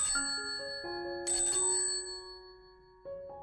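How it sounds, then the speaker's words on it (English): A doorbell rings, a short run of clear, bright chime tones that step between pitches and fade, then one more ring near the end, with no speech. "Then suddenly she ran across the road and rang Holmes's doorbell."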